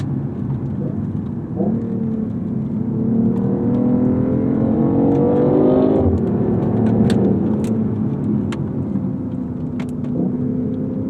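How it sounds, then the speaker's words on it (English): A BMW i8 hybrid sports car starting up and shifting into reverse, giving a steady whirring electric hum with rising and falling synthetic tones and a few faint chimes over a low rumble, close and continuous. "when you start the car, get into reverse, it makes these various, you know, futuristic sounds that add to the drama and the appeal"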